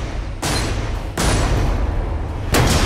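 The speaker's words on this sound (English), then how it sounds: "That was a good explosion, right?" A natural gas filled balloon explodes outdoors during a street science demonstration, giving loud sustained booming bursts, with a second and third blast close after, dense and noisy throughout.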